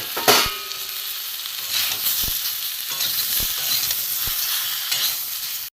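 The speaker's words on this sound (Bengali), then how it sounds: "এখানে যে পটলগুলো ভাজা ছিল এর সাথে একসাথে আমি কষে নেব।" Fried pointed gourd pieces being sautéed with grated ginger, cumin and coriander powder in a pan, a continuous sizzle broken by several distinct spatula scrapes and knocks spaced across the stretch, close and moderately loud, no talking.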